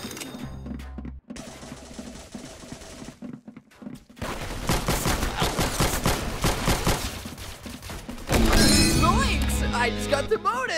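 Rapid bursts of gunfire from the Roblox shooter game Arsenal come in dense, loud volleys with breaks between them, mixed with game effects and music.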